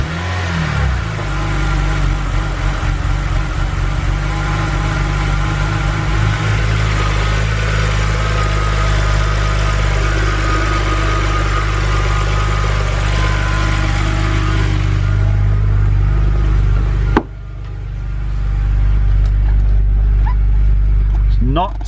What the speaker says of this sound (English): let's get this engine fired up so you can see what I mean by the rough idle